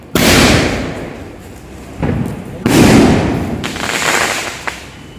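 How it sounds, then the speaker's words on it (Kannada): Firecrackers are lit outdoors and go off in several loud, whooshing bursts, the strongest near the start and in the middle, each fading into a sputtering hiss. "ನೋಡ್ಬೋದು ಇಲ್ಲಿ ನನ್ನ ತಂಗಿ ಮಗ ಪಟಾಕಿ ಹಚ್ತಾ ಇದ್ದಾನೆ."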